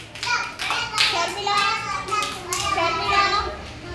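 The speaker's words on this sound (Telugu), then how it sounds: "క్లాప్స్ కొట్టండి." Young children at an anganwadi preschool clap their hands together in a busy, continuous patter mixed with their chatter and voices throughout.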